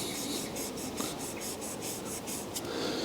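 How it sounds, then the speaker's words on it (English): Fine 2000-grit wet-and-dry paper rubbed by hand over a 2016 facelift car's bumper, a steady close hiss of back-and-forth strokes with faint rhythmic pulses and no talking. "I'm using the 2000 grit. So I'll try and get it as smooth as I can"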